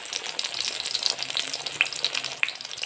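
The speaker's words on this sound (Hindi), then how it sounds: "कैप्सिकम को फ्राई करेंगे" Besan-coated capsicum frying in hot oil, a steady dense sizzle with crackling pops throughout, close and continuous with no voices.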